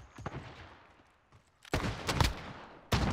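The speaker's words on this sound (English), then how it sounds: "Is that shooting you? No, you were shooting him." Gunfire in a competitive shooter video game tournament: a few sharp bursts of shots, a short volley midway and another at the end, fairly close with no talk.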